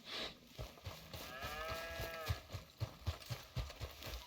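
Cattle on a farm in Red Dead Redemption 2, heard as one drawn-out moo with clear harmonics over steady clip-clop of hooves, with thuds and ambient game noise continuing throughout.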